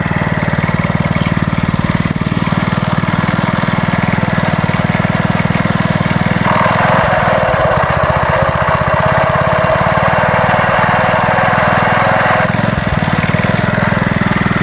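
The engine of a 1961 Porter Cable #98 rototiller runs loud and close, a continuous buzzing small-engine drone with slight shifts in tone midway and no voices.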